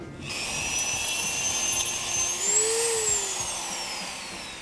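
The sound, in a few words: Dremel rotary tool grinding down plastic nubs on tail light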